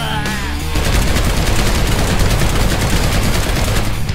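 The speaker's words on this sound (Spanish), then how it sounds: "Escucho disparos por ahí, pero no veo a nadie." Rapid video-game gunfire crackles loudly and continuously from close range for several seconds, with dense overlapping bursts and no talking.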